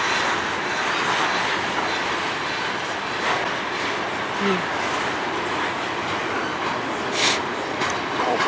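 Long freight train rolling slowly through Sarnia, Ontario, a steady rumbling roar of cars passing close by, continuous and unbroken, with faint wheel noise layered on top.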